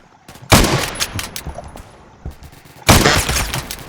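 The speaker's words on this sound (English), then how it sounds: "Who is shooting me?" Gunfire in the Phantom Forces shooter game: two loud bursts of rapid shots, one early and one near the end, with scattered quieter shots and pops between them.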